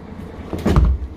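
The faulty door of an old ex-Bogestra city bus closes in a single short, muffled thud with a brief mechanical rush, heard close up against a low background rumble.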